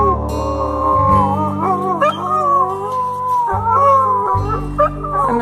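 Dogs howl at a fire truck in long, wavering, overlapping cries that rise and fall. They are loud and close over a deep, steady rumbling drone, with no talking.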